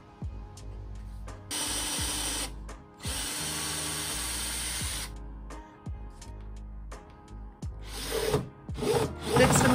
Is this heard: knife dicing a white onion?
no